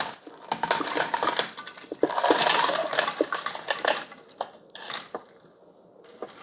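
Ice cubes tumble and clatter into a Braun 14-cup coffee maker carafe of iced coffee, a dense, close run of rattling and crunching that gradually thins out into scattered clinks.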